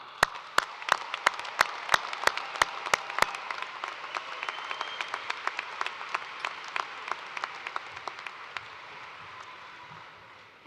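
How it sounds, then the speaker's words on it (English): A large audience applauds graduates at a spring university commencement in Toledo, a steady wash of clapping with sharp, regular loud claps close by at first, fading slightly toward the end. "Please, one more round of applause."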